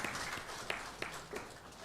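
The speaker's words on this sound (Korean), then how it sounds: "우리 박수로 하나님께 영광 돌리겠습니다" A church congregation claps during a Sunday worship service, a soft, steady patter of many hands that is faint and distant throughout.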